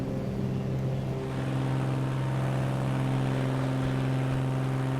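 Steady droning twin-engine propeller hum with strong tonal whine of a Milviz Cessna 310R taking off and retracting its gear in Microsoft Flight Simulator 2020, loud and continuous throughout.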